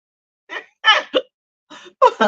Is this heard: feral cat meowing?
no